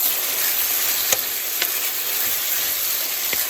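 Chicken caramelizing in a hot pan, with a steady bright sizzle and a few sharp clicks of stirring, close up and with no talking.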